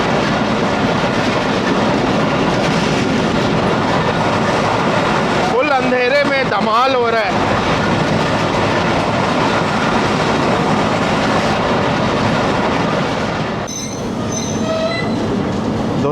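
The 228DN Multan Cantt to Kot Addu shuttle train on a rare morning branch line in Pakistan, running at 105 km/h, gives a loud, steady onboard rumble of wheels and rails with brief squealing, while someone speaks over it.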